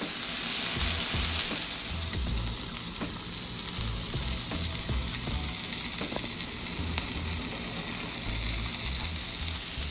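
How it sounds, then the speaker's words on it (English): A Japanese A5 wagyu steak sears in a hot pan, giving a loud, steady sizzle with dense crackling spatter that runs unbroken from start to finish, close up and with no voices. "Add your steak and listen for that sizzle"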